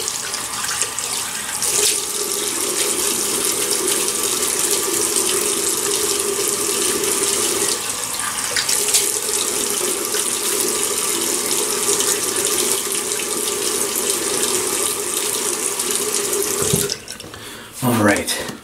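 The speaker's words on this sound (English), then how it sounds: "so let me wet the face" Bathroom tap running steadily into a sink while the face is wetted before a wet shave, a continuous close water rush with splashes near the end and brief voice in the background.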